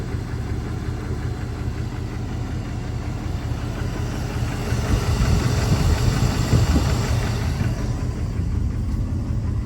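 A 1988 Jeep Grand Wagoneer engine idles steadily and close by after an idle adjustment, a low rumbling throb that swells slightly louder midway, with no talking.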